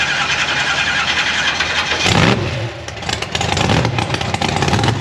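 A monster truck engine starts up very loud and close, with a cranking burst that catches into a raw, roaring idle and rough revving.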